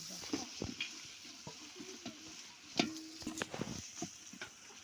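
Mint leaves sautéing in a pan for chicken biryani: a faint, soft sizzle with irregular spoon clicks and scrapes against the pan, quiet and close, without speech.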